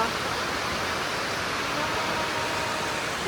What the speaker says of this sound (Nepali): बत्ती खोला जस्तै बगिरहेको छ हेर्नु रोडमा त